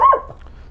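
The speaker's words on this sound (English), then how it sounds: "that's our dog, Chug." A pet dog gives a single short bark, close and fairly loud, fading quickly into quiet room tone.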